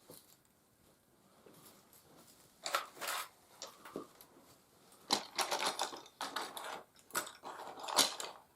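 Scissors snip through a piece of buckskin leather for paleolithic-style knee-high leggings, giving several short crisp cuts in irregular bursts, close and fairly quiet, with no talk.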